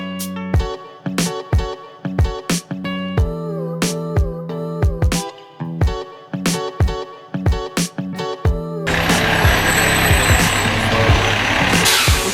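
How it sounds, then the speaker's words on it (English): Fire department truck pulling up outside a hotel at midnight during an evacuation, with repeated loud horn blasts or beeps and engine rumble, followed by a sustained loud hiss like air brakes or pumps. "Here comes the fire department."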